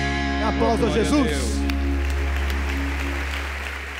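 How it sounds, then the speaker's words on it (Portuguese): Applause breaks out from a church audience at a televised evangelical service, rising as a broad, steady crowd clatter just after a singing voice fades, then continuing alone and slowly thinning. "Aplausos a Jesus."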